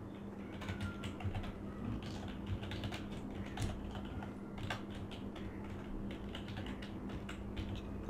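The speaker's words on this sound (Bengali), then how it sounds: "আমি লিখলাম এখানে হাউ টু স্টার্ট ফ্রিল্যান্সিং" Steady, close keyboard typing as a search is entered on a computer, a continuous patter of light key clicks with no speech.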